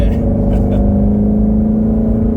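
Ford Mustang GT350 engine under load as it accelerates to pass a BMW, a loud steady droning rumble with a strong tonal hum heard from inside the car, no voices.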